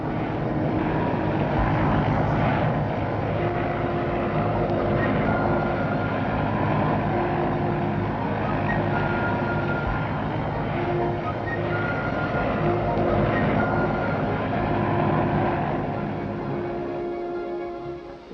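A private business aircraft taking off in 1964 on a flight from Knutsford to a factory at Wythenshawe, its engine a continuous loud droning roar with a propeller-like hum that stays steady and eases slightly near the end.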